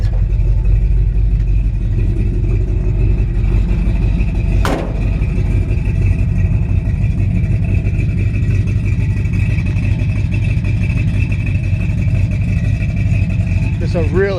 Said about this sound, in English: Just a really sweet sounding cam in it.